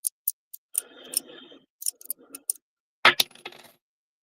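Old pre-decimal UK coins are sorted by hand, with sharp metallic clinks and taps in small irregular bursts and a brief rustle of handling, close and alone.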